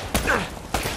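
Gunfire from the video game Uncharted: Drake's Fortune: two sharp, loud shots about half a second apart, with a short whizzing ricochet-like sound between them.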